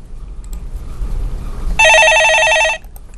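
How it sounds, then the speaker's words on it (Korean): A telephone rings once with an incoming call, a loud bright electronic trill lasting about a second after a quiet stretch of low background hum. "예, 전화가 들어오겠습니다."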